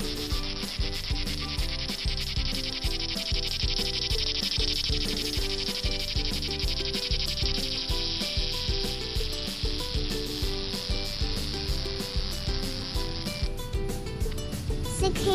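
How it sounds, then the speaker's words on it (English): Cicadas droning, a loud, close, continuous rasping buzz with a fast pulsing rhythm, shifting in tone near the end, with no voices. "Let's hear how they make their noises."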